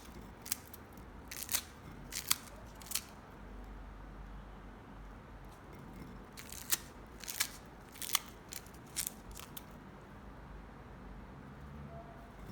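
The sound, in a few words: scissors twisting corn cob apart to separate kernels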